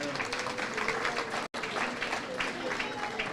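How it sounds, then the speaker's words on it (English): Crowd applause at a political party chapter launch rally in Florida, steady dense clapping at moderate distance, with a brief dropout midway. "Give that a round of applause now"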